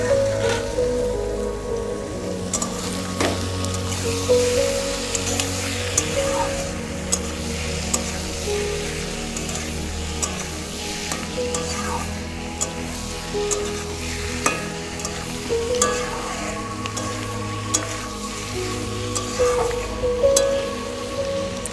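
Cut chicken pieces sauté in a hot pan for chicken stew, giving a continuous crackling sizzle with frequent scraping and stirring knocks throughout, close and clear with no talk.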